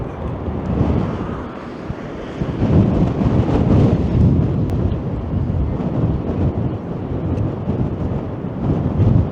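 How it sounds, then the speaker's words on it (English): Strong wind buffets the microphone along the downtown Toronto waterfront in spring, a loud, continuous rumbling roar that swells and eases without pause. "And now we battle the wind"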